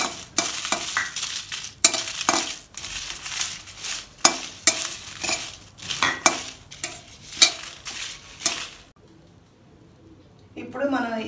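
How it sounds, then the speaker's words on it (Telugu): Dried red chillies being dry roasted in a pan for a Telugu stuffed brinjal masala curry, with repeated scraping and stirring bursts, a short quieter pause, then stirring again. A voice may be faintly present. "ఇప్పుడు అలాగే ఎండుమిరపకాయలు కూడా వేసి డ్రై రోస్ట్ చేసుకోవాలి."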